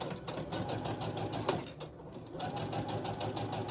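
A sewing machine runs steadily, stitching quilt pieces together with a fast, even mechanical whir, pausing briefly near the middle before resuming at a constant close level.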